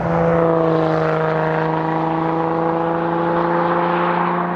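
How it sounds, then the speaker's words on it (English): A Lotus Evora GT's Toyota engine pulls hard under acceleration, a loud, close, sustained tonal drone with strong steady harmonics that hold without any talking. "Oh, listen to that. Don't worry, it's a Toyota engine."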